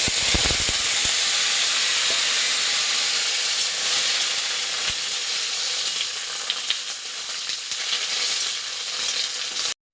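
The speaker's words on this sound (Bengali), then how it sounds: "প্রথমে এই পটলগুলোকে হালকা করে ভেজে নেব।" Pointed gourd (potol) frying lightly in a pan, a loud, steady sizzling hiss throughout with a few clinks of stirring near the start, close and without talk.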